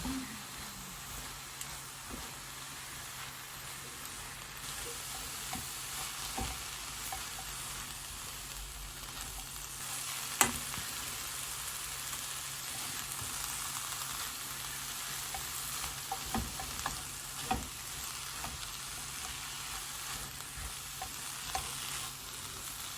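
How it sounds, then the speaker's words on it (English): Savoy and sweetheart cabbage slaw frying in a pan, with a steady sizzle throughout and intermittent scraping and clacking as it is stirred, close and moderately loud. "And I'm going to give that a good stir."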